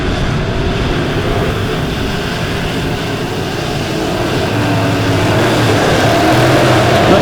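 USRA B-Modified race cars roar around Lebanon Midway Speedway during an A-Main, a continuous loud engine drone with a steady broadband rumble and no pauses.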